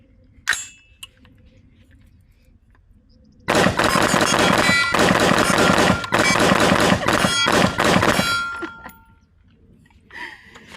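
An FN 15 Guardian rifle fired rapidly, a loud continuous burst of shots lasting about five seconds, preceded and followed by a few isolated metallic clicks and clanks.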